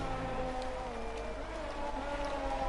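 Rain in an F1 racing video game at a Spanish circuit, a steady broadband wash of spray mixed with droning engine tones throughout, no voices.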